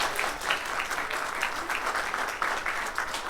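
Audience applauding performers at the close of a public discussion on reintegrating industry into cities, a dense, steady round of clapping throughout with no voices.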